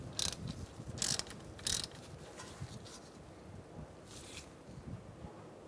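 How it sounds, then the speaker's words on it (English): Ratchet wrench tightening a brake hose bolt on a Buick Encore front brake caliper: several short, faint bursts of clicking spaced apart in a quiet workspace. "Once you get that bolt started, you're going to tighten it down."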